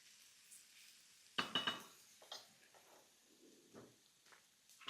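Onions being stirred and lightly sautéed in a pan, heard as faint soft scraping and a few clinks of a spoon against the pan over a low, quiet sizzle.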